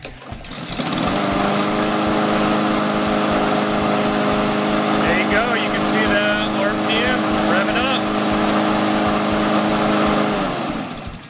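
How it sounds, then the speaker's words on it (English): A lawnmower engine starts up and runs steadily at close range with a loud, even drone and strong harmonic hum, continuing for about ten seconds before winding down at the end. "we're going to fire up the engine and let you see"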